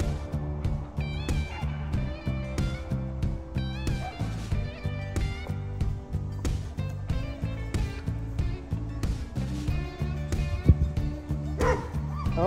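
A dog nearby gives a series of excited yips and short barks mixed with high whimpers, coming in quick repeated bursts.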